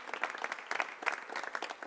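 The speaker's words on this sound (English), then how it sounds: "Let's give him a round of applause." An audience claps for a bike share representative at the LouVelo bike share program launch in Louisville, a fairly quiet round of applause with distinct, uneven hand claps throughout.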